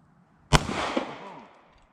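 A single loud gunshot from a hunting gun goes off outdoors in October, a sharp crack followed by a long, fading echo, with no talking over it.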